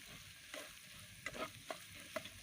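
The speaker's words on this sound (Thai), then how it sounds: "ก็มาเจียวหอมแดงนะคะ ใช้หอมแดงหัวใหญ่ สามสี่หัวนะคะ แล้วก็ใช้น้ำมันประมาณ สามช้อนโต๊ะ" Sliced shallots fry quietly in a few spoons of oil over medium heat, a soft continuous sizzle broken by several distinct spatula scrapes and taps against the pan, with no speech.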